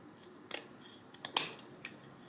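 A few quiet, crisp snips of scissors cutting ribbon, spaced irregularly in an otherwise hushed room.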